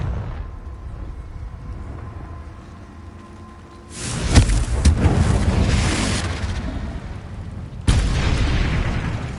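Confringo fire spell in the game Hogwarts Legacy, a deep booming blast that rolls into a sustained roar, then a second sharp explosion near the end, loud and close, no talk.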